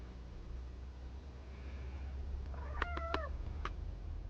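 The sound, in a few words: cat meowing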